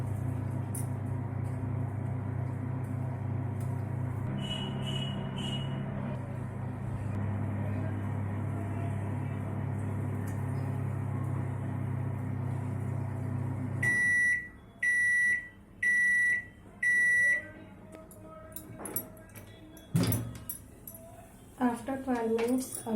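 A microwave oven cooking capsicum and potato curry gives a steady, droning hum for a long stretch. It stops, three sharp beeps follow, then a door clunk and faint kitchen clatter. A voice speaks over the hum.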